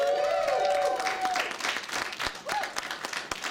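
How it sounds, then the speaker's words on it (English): Audience clapping and cheering at a comedy roast as performers come to the stage, a steady wash of applause with a voice speaking faintly over it. "Please applaud as they come to stage"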